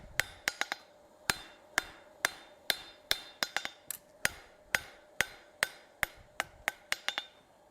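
Sharp, ringing hammer blows forging a taper on an anvil, half on and half off over the hardy hole, struck in a quick steady rhythm of about two dozen close, bright hits.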